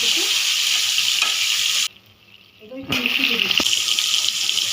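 Tomato added to hot oil tempered with black cumin, frying with a steady bright sizzle throughout, briefly dropping away mid-way before a clattering stir and the sizzle returning strong and close.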